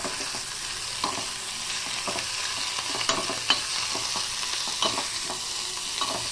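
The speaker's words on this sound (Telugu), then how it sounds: "ఇప్పుడు ఆనియన్స్ వేగిపోయిన తర్వాత క్యారెట్ అండ్ టమాటో వేసేసేయాలి." Onions sizzle and fry in a pan as carrot and tomato are added and stirred in for semiya upma, with a steady close hiss and scattered scraping clicks of the spoon and no talking.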